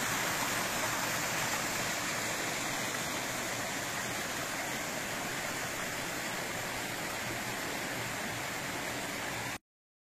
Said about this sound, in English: Fresh, clean drinking water runs off in the rapids from mountain streams.